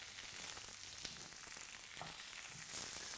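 Ripe pear pieces, skin on, warming in a pan with black pudding, making a quiet, even frying hiss with faint crackles.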